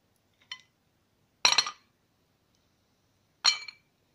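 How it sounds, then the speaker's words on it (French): Three ice cubes dropped one at a time into an empty drinking glass, each giving a sharp, close clink, about a second or two apart, with silence between. "Dans le premier verre, je dépose 3 glaçons,"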